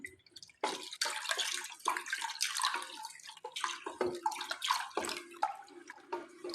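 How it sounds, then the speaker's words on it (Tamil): Water is poured into halwa batter in a kitchen, giving a quiet, uneven run of splashing and trickling with small drips and gurgles that carries on throughout. "இன்னும் கொஞ்சம் அந்த தண்ணி இருக்குது அதெல்லாம் ஊற்றிக்க போகிறேன்"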